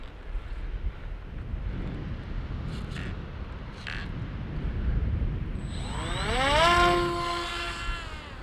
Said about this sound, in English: I'll have to give it a motor start.